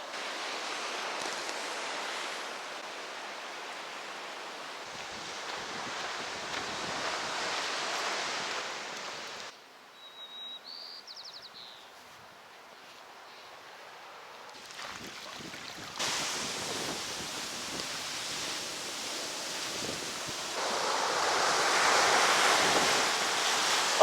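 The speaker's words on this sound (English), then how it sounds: "Those waves are actually very, very dangerous if you're not careful" Ocean surf breaking on the coast near Fort Ross, California, a broad rushing roar that swells and recedes, dropping to a quieter lull midway before surging back louder, with wind buffeting the microphone.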